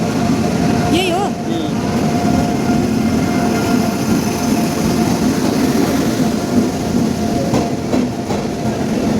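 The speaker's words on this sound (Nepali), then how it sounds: "अन्त हाम्रो ट्रेन पनि आइसकिसकेको छ" A train pulls into a station on the route from Sikkim toward Siliguri, its carriages rumbling loudly and continuously with a brief high wheel squeal near the start, while people talk nearby.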